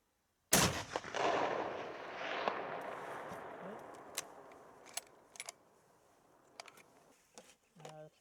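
A hunting rifle is fired outdoors in fog while being sighted in before bear season: one sharp, loud shot with a long rolling echo, followed by faint clicks and handling noises.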